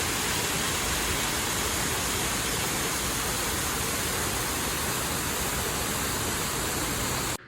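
Waterfalls and streams in an indoor atrium garden with exotic plants make a dense, even wash of rushing water that stays loud and constant, with no voices, before cutting off abruptly at the end.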